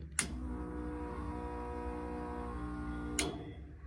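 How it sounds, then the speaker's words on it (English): A steady electric whine with a low hum runs for a few seconds, bracketed by sharp clicks at start and end, no talking: the fuel pump of a 1936 Ford Coupe hot rod running during wiring tests. "And the fuel pump."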